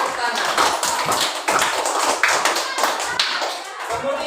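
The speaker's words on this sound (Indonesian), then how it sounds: "Beri Aisyah tepuk tangan." Children in a classroom applaud together, a burst of rapid, dense hand claps that stays loud and steady for several seconds, with voices mixed in.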